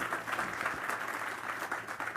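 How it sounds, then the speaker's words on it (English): Faint, distant crowd applause at an outdoor groundbreaking ceremony for a new headquarters, a steady patter of clapping heard from afar for a couple of seconds. "Give them a big round of applause."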